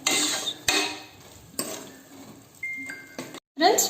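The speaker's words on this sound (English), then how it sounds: "Friends, so it's getting fried well." Mutton liver frying in a pan, with a sizzling hiss broken by several sharp scrapes and clinks of a utensil stirring against the metal.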